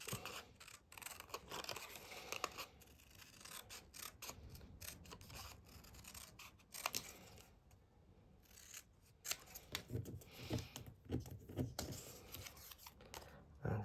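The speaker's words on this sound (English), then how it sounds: "I think you can actually cut out 4 of these tabs from the waist from here" Scissors cut paper tabs for a farmhouse policy envelope scrapbook album in a quiet room, making repeated close, crisp snips and rustling paper handling, faint and without talk.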